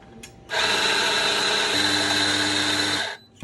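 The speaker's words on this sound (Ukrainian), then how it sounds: "Потім змелюємо подвійну порцію кави." Professional coffee grinder grinding a double portion of coffee, a loud steady motor whine that starts abruptly, deepens partway as the beans feed through, then cuts off after about two and a half seconds.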